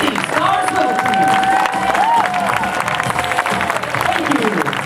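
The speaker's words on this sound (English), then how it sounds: "a big round of applause for our Mad City Star Swivel team." A crowd claps and cheers for a water ski show team at a national show ski tournament, the applause outdoors and moderately loud beneath an announcer's amplified voice and a sustained whistle-like tone.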